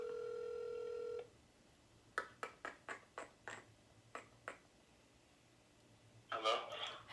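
Telephone call tone: a steady two-pitch ring sounds for about a second and stops, followed by a run of sharp, evenly spaced clicks and then a brief burst of louder chirpy noise at the end.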